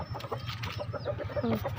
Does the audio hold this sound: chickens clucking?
yes